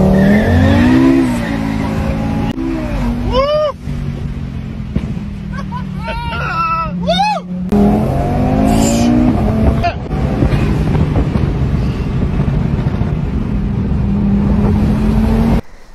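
A 740-horsepower Audi RS3 revs hard on launch control and accelerates, climbing through gears with a loud, rising roar and sharp shifts, while people talk over it.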